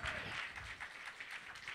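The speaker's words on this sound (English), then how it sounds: "please can, can keep the applause going for Natalie Doggett" Faint, diffuse applause from a crowd at the Say It Loud 2018 event, continuing for the performer Natalie Doggett.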